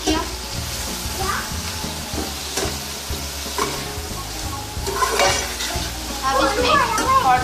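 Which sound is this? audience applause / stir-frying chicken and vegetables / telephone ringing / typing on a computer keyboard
stir-frying chicken and vegetables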